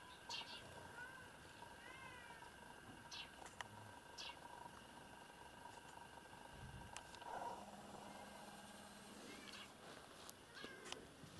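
A stray grey cat near a village church meows a few times, faint and somewhat distant, amid soft outdoor background noise with occasional voices talking nearby.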